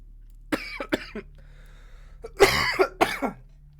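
A few sharp coughs up close, two quick ones, a pause, then a louder rougher pair near the end, with faint background hum.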